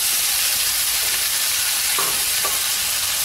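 Red capsicum and tomato sautéing in a pan make a loud, dense, hissing sizzle that runs without a break, with a few faint stirring knocks near the end.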